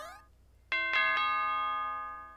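A doorbell ding-dong chime in the Super Mario Maker 2 video game rings out clearly, a few bright struck tones that ring and slowly fade, following a short rising jingle, with no talking.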